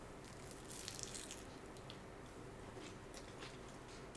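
Close, quiet bites and chewing of a tuna sandwich with lettuce, onion and celery, with several crisp crunches and moist squishing over about four seconds.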